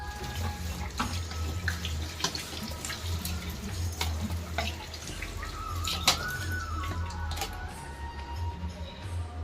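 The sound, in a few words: washing fridge parts under running tap water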